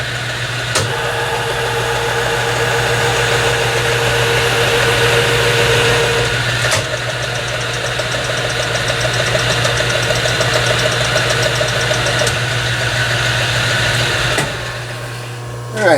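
A metal lathe takes light spring passes while turning a steel carriage stop spindle, leaving no more material to remove. A steady mechanical hum and whine run throughout with a low constant drone, close and fairly loud, broken by a few brief clicks.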